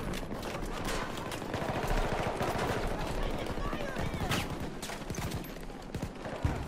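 Sustained automatic gunfire in Battlefield 2042 rattles on without pause in fast, dense bursts, heavy and close, with players chatting over the shooting.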